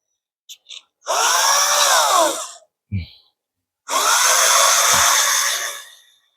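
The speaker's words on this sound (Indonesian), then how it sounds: "kemudian kita amplas" Two long bursts of harsh, buzzing sanding noise on the shaft of a Panasonic F-EK306 electric fan during bearing replacement, separated by a short pause, with a few small clicks and knocks between.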